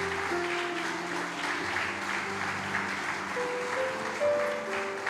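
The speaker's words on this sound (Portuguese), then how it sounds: "Você pode aplaudir ao Senhor em nome de Jesus." Steady applause from a church congregation during a Sunday service fills the clip, with a sustained musical tone beneath it and a brief louder burst at the very end.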